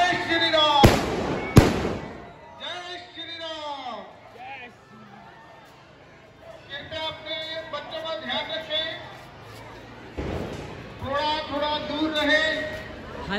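Firecrackers go off in a Ravan effigy at a Dussehra celebration in a street market, sharp loud bangs near the start, then scattered crackling and pops through crowd chatter and shouting.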